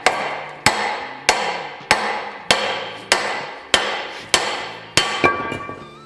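Eight sharp hammer blows strike a car suspension joint to separate it during a drop spindle and flip kit install, evenly spaced and loud, each ringing metallically before fading, with a final lighter tap.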